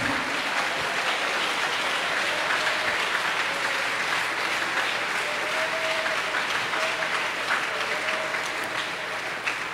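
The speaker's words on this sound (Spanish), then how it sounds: "Si ese aplauso es para él" Steady, dense applause from a church congregation, loud and continuous throughout with a faint murmur of voices beneath.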